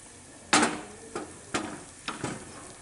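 Egg-and-milk flour cakes fry in hot bubbling fat, giving a few separate sharp sizzling bursts that rise and fade, up close, with no talk.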